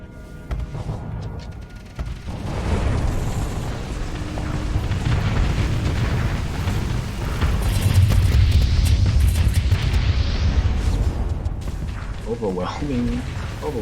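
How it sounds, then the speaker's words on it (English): Missile explosions in a Starsector space battle, a continuous roar of overlapping booms and blasts building in loudness, with a voice talking over it. "Overwhelming force of missiles and explodables."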